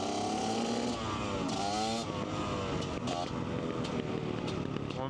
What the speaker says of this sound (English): My bike is stuttering a bit though.